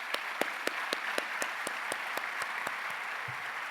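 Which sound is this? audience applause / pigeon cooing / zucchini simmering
audience applause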